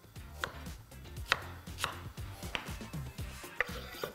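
Leek and celery are chopped on a board with a knife: a quick run of sharp, close cuts at an irregular rhythm, loud and clear with nothing else behind them.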